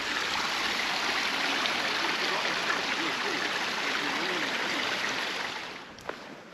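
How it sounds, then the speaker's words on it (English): Small creek running at a hiking-trail crossing, a steady close rush and trickle of water that fills the clip, easing off slightly near the end. "as we get to this little creek crossing"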